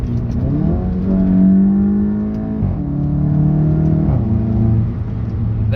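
A Volkswagen Golf 7.5 GTI revs through its exhaust pipe, rising and falling in several loud, close engine swells while the car stays stationary, with no talking.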